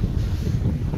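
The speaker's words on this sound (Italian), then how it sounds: "tira una bestia di vento" Strong wind buffets the microphone outdoors in Strasbourg, a dense, steady low rumble that fills the whole second with no voices over it.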